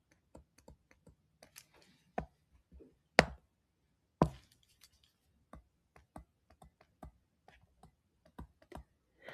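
Typing on a computer keyboard to enter an equation into Desmos, irregular close key clicks with a few louder taps and brief pauses between bursts, quiet surroundings.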